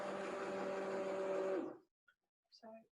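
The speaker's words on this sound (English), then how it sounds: "So I'm all done with the stick blender." A stick blender purees thick homemade soup, a steady whirring motor hum that stops abruptly partway through, followed by brief clinks and a short voice.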